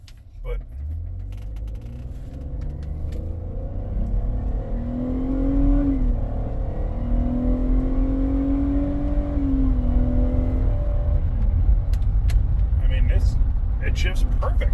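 A car rolls along on a road test, its engine rising and holding steady as it accelerates through smooth gear changes, with a continuous loud drone close by and a few small rattles near the end.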